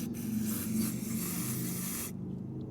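Gumout mass air flow sensor cleaner sprays in one continuous, close hiss of about two seconds, then cuts off abruptly to near quiet.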